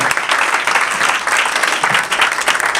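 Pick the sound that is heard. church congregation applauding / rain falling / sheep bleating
church congregation applauding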